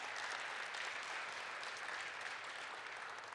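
Steady audience applause for a newly unveiled mural at the Valkyries Performance Center press conference, a dense, even wash of clapping that holds at moderate level throughout with no voices over it.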